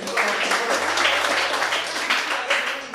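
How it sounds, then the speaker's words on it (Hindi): A live show audience claps along through a poetry reading, with steady, moderately loud applause from many hands filling the room and a voice faintly present underneath. "थोड़ा सा ताली वाली बजाते रहिएगा"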